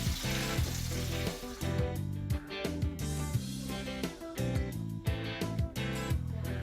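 Pork chop cutlets deep-frying in oil give a steady, close sizzle and crackle, with tonal sounds running underneath.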